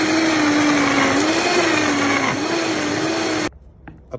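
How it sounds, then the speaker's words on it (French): A blender whirs loudly and steadily as it purées a tomato gazpacho seasoned with fleur de sel and sherry vinegar, then cuts off abruptly, leaving a couple of faint knocks. "Alors maintenant on va mixer."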